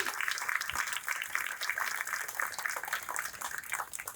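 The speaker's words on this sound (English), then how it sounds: "Let's give her a round of applause." Crowd applause at a public event for a California state senator, a dense, steady wash of many hands clapping, moderately distant, holding evenly throughout with no talk on top.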